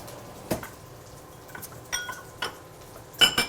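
Bacon is moved from a pan into a small bowl, giving light, scattered clinks and scrapes of utensil against cookware, faint and sparse in a quiet kitchen.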